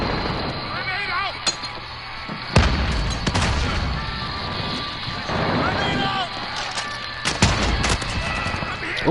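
Video game combat: a grenade blast and bursts of gunfire crack out repeatedly, with sharp loud booms at intervals over rapid shooting, while voices call out throughout.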